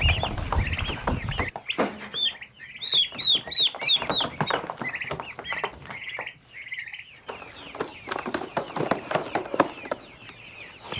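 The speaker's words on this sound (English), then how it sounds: "We need to move these turkeys" Young turkeys in a brooder cluck and peep continuously at close range, a busy overlapping chatter of short chirps and bright trills, with brief quieter gaps and a steady background hum.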